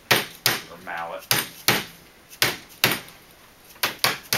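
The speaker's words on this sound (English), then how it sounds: "Then finish it with a hammer or mallet." Hammer or mallet strikes bending a metal heat guide to a 90-degree angle: sharp, loud, regularly spaced impacts, about ten in four seconds, close up with no talk.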